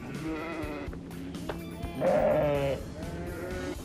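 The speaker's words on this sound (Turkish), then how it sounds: "Arkadaşlar bunlar da koyunlarımız." Sheep bleat over a busy farm pen noise, one loud wavering bleat standing out near the middle among quieter overlapping calls of sheep and lambs.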